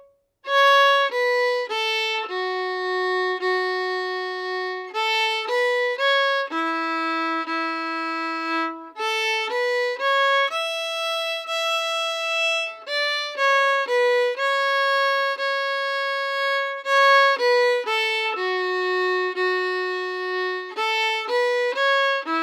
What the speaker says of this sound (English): So I'll play that tune now without stopping.